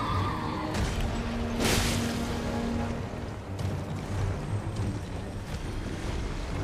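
A knight's cavalry horse in Elden Ring gives a single drawn-out neigh over a steady bed of wind-like ambience.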